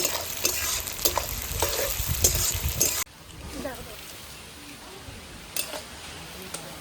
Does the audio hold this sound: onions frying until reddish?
yes